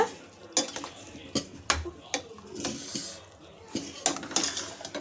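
Metal utensils clank and scrape against a pot of moong dal, vegetables and coconut paste being stirred, in uneven strokes, close by, with a faint sizzle and kitchen clatter underneath.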